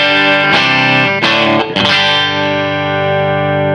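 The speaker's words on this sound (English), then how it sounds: "Bridge pickup by itself. I'm going to turn the SPC up for a little mid crunch." Electric guitar on its bridge pickup through a Sovtek MIG 30 tube amp set for mid-gain crunch: a few loud distorted chords strummed, each ringing out thick and sustained, the last one held and slowly fading.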